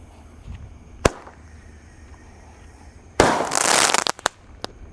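A Golden Blitz firework goes off outdoors at night. A sharp pop is followed by a loud, dense burst of crackling that lasts about a second and then trails off in scattered snaps, with quiet background between.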